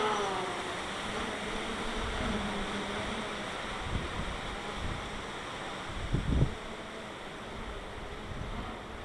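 A DJI Phantom 4 drone flies above a tree line, its faint, distant whine buzzing steadily under wind noise, with a couple of soft thumps.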